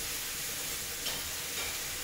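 Lamb meat sizzles in a frying pan, a loud, steady crackling hiss that holds continuously throughout.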